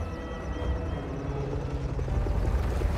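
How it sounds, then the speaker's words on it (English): Helicopter in the Spider-Man 2 video game, a steady low rotor rumble with broadband whooshing noise held at a constant level throughout, no talking over it. "Reminds me of those helicopters from Avatar."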